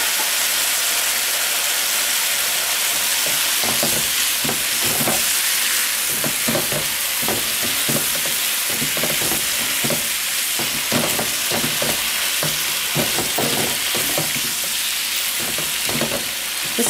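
Sesame beef and its juices sizzle and stir-fry in a hot pan, a constant loud hiss broken by rhythmic scraping and tossing strokes, with no voices.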